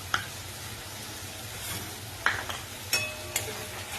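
Whipped yogurt goes into a pan of sizzling, well-fried spice masala while making doi rui, a steady close frying hiss broken by a few sharp spoon clinks and stirring scrapes against the pan.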